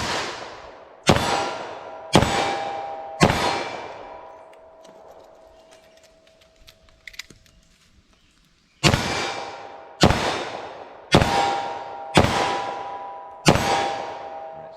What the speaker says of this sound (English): So our 357 Magnum here, fire off 5 rounds, do a reload, fire off 5 more.